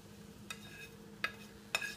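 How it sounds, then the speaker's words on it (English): Cilantro being stirred into curried pineapple fried rice, three quick scraping clicks of a utensil against the pan over a faint, quiet sizzle. "Stir in the cilantro"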